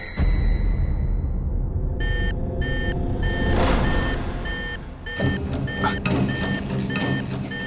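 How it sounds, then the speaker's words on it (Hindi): An alarm beeps in a series of short, regular electronic pulses set against steady background noise, with no talking over it. "ये अलार्म भी मैं रोज बंद करना भूल जाता हूं।"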